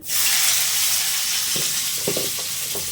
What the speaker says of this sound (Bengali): একটু পেঁয়াজ কুচিয়ে নিয়েছি, পেঁয়াজটা দিয়ে দেবো। কড়াই তেল গরম হয়ে গেছে,